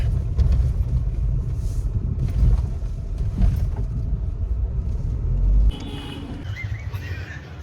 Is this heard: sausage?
no